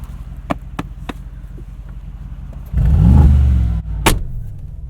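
A 2020 Mercedes-AMG G63 gives a few sharp clicks and knocks, then its engine bursts in with a loud, close rev lasting about a second before settling back, with one more sharp knock afterward.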